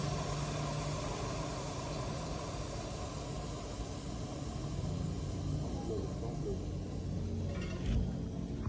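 Old refrigerant gas escapes from a refrigerator compressor as a steady, even hiss of broadband noise that persists throughout, with a faint low hum underneath and a brief knock near the end.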